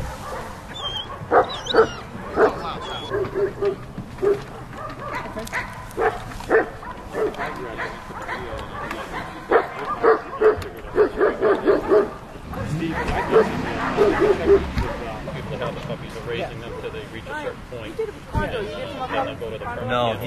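A young police puppy barks in repeated yips and whimpers, sometimes in quick bursts, with people talking around it throughout.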